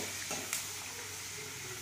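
Onions fry in a pan for prawn curry, giving a steady close sizzle with a few sharp spatters and stirring scrapes near the start, no voices.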